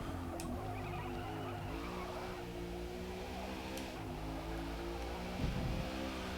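A supercharged 751-horsepower car engine with an aftermarket exhaust in a Forza racing game, droning and revving steadily at moderate loudness with shifting pitch, under occasional talk.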